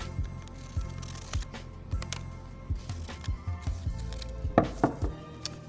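Scissors cutting a leaf shape from folded magazine paper, a steady series of snipping crunches at roughly even intervals, close and moderately loud.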